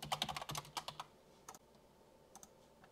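A password being typed on a computer keyboard, a quick close burst of soft key clicks, then a few scattered taps against a faint quiet background.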